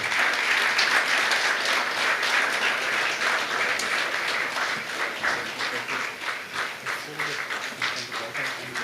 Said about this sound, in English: Another round of applause for the Deputy President.